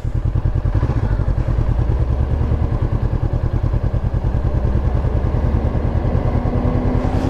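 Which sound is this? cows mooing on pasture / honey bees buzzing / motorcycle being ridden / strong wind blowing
motorcycle being ridden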